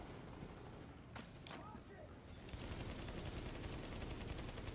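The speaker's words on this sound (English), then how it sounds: "Wow, who is shooting me?" Gunfire from a firefight in the video game The Division, fought in a subway morgue on hard difficulty, crackles as a dense, continuous rattle of shots that grows louder partway through.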